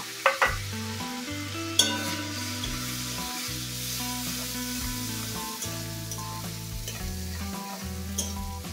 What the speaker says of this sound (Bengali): তো পেঁয়াজটাকে দিয়ে ভালো করে হালকা করে ভেজে নেব।